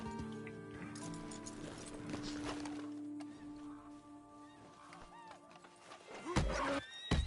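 Horse in the Western video game Red Dead Redemption 2 gives a whinny amid clip-clopping hooves and game ambience, with a sharper, louder burst near the end.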